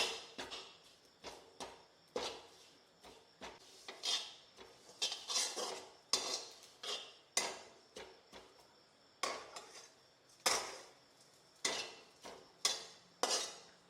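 Coriander leaves being stirred and roasted in a pan for an onion-garlic masala, with a metal spatula scraping and clinking against the pan in a steady, repeated rhythm, close and clear, with no talking.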